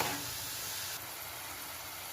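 Food fries in oil without water, giving a dense, steady sizzle that eases slightly partway through, close and continuous with no voices.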